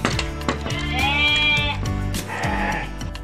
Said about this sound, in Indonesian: Salah satu hewan domba kurban yang telah kita order ya, guys ya.